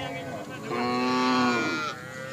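A cow at a riverside cattle market moos once, loud and close, in a long drawn-out call that rises and then tapers off.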